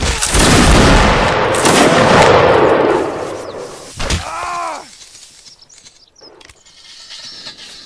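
A musket volley cracks out in Mount & Blade: Napoleonic Wars, a loud massed blast from a line of muskets that rolls on for several seconds before fading, with a few scattered later shots and distant battle noise.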